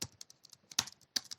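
Code being typed on a computer keyboard: a quick burst of distinct keystrokes, a few sharper clacks among lighter taps, close and alone in a quiet room.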